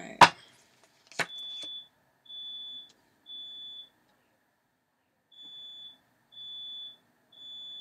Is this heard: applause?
no